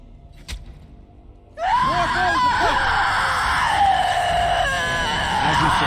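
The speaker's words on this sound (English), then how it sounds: "That was quite the scream." A loud, strained scream from a character in the video game Dragon Age: Awakening, rising abruptly after a quiet stretch and sustained with wavering pitch over battle noise.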